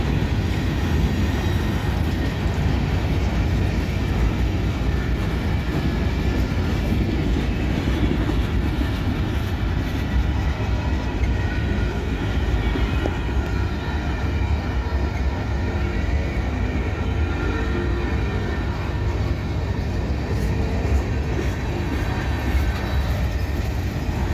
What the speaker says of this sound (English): Yeah, this is a big old train, and this is a steep old hill over here.